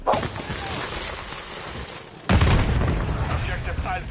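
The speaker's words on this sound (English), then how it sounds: "Stun incoming!" A stun grenade in Call of Duty goes off with a sudden heavy bang that cuts into a busy battle din, leaving a loud ringing wash of noise amid ongoing game sounds.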